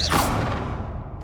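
A Confringo spell cast in Hogwarts Legacy: one short, bright fiery whoosh that bursts out loudly and then fades away over about a second.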